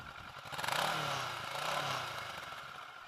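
Idling 2016 Kawasaki ER-6N ABS motorcycle engine, a steady close mechanical drone with a slight swell in revs through the middle and no talking.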